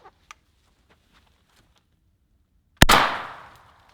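A single loud 12-gauge shotgun blast fired into a pillow, a sharp crack with a short decaying tail, preceded by a couple of faint small clicks.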